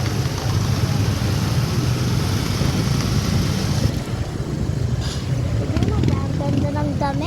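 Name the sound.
riding a tricycle through traffic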